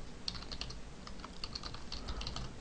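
Close, quick clicking of keys on a computer keyboard, typed in short irregular bursts over about two and a half seconds with no talking.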